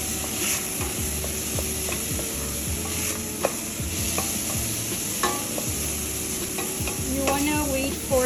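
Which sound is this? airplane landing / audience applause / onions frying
onions frying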